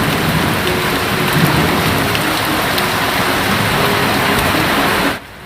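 Hail and heavy rain hammering down during a wet-season storm in the far north Kimberley outback, a dense, loud, continuous roar that cuts off abruptly near the end.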